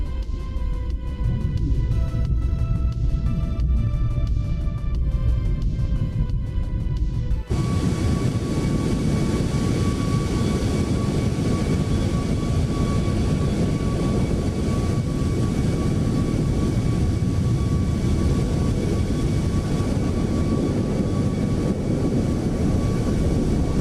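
A Southwest Boeing 737 MAX 8 cruising over Indianapolis in Microsoft Flight Simulator 2024: a steady loud roar of jet engine and airflow with a constant tonal whine, shifting abruptly to a fuller, broader roar partway through, with no talking.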